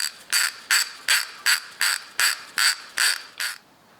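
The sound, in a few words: ratchet wrench tightening damper bolts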